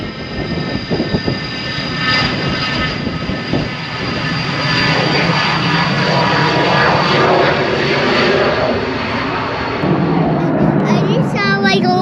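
A jet aircraft roars steadily nearby at an airport, a loud sustained engine rumble with whining tones that swells and holds across the whole stretch, with people talking faintly underneath.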